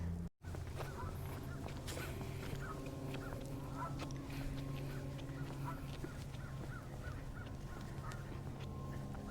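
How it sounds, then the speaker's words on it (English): Geese honk in scattered, faint calls from a distance across an open park trail, repeating irregularly over a steady outdoor hum. "Got a few geese."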